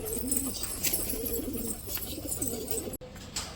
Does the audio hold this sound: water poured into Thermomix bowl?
no